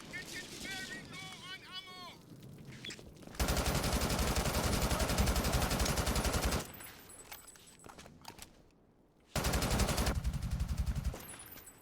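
Burst-fire gunshots in the video game Brink: dense, loud sustained bursts of rapid fire in long runs, broken by short gaps, following a stretch of voices and game noise.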